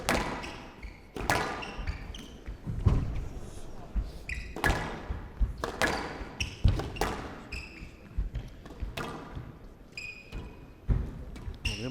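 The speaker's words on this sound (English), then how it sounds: "What a classy squash rally!" A professional squash rally in the quarter finals of the Canary Wharf Classic, with crisp ball strikes and wall hits popping at an uneven rapid pace, court echo and squeaking shoes, and commentators talking quietly underneath.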